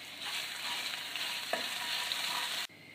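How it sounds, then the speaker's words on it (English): Ginger and garlic sizzling in hot oil for an Indian dal, giving a bright steady hiss with a spatula knock midway before the sound cuts off abruptly near the end. No voices. "I'm going to add the ginger first, and then also the garlic, and give it a bit of a stir."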